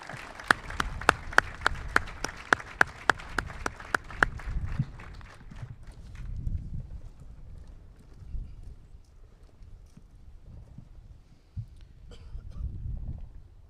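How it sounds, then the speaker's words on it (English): A military awards ceremony crowd honoring the Best Medic Competition winners claps, starting with a few sharp, evenly spaced beats before spreading into a softer, scattered ovation that fades into murmuring room noise. "let's give one final round of applause for the winners of the 2022 Medical Readiness Command East and 101st Airborne Division Air Assault Best Medic Competition"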